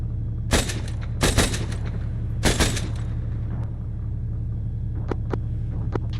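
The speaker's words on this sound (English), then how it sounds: "unknown what that explosion was" Explosions in the Arma 3 military video game boom sharply several times over a low constant rumble, then give way to fainter scattered cracks and pops.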